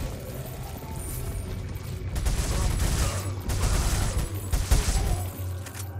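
Resident Evil 4 gunfire, a quick run of sharp shots with mechanical clacks of the weapon, close and loud, sounding alone.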